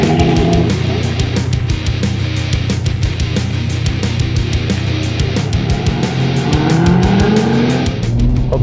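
A 2014–2019 Chevrolet Corvette C7 with a manual shifter and a Flowmaster exhaust accelerates on the highway. Its loud, close V8 drone climbs in pitch through the gears, and nobody talks.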